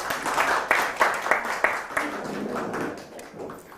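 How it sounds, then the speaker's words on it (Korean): Applause at a Korean artificial-ground greening awards ceremony, a moderate crowd clapping with several sharp, distinct claps early on, then thinning and fading out, with faint voices underneath. "시상에 수고하신 문길동 과장님께도 박수 부탁드립니다"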